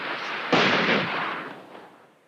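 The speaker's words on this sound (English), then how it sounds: "General Mladic's guns shelled tens of thousands of refugees and United Nations troops sent to protect them" Distant artillery shelling a town: a single sharp blast that rolls out into a long fading rumble, loud and alone with no talk.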